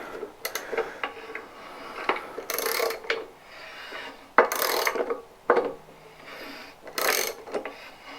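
A ratchet tightening a nut on a Bolens lawn mower, with bursts of rapid clicking in several separate strokes and brief pauses between them, close up and fairly loud with no talking.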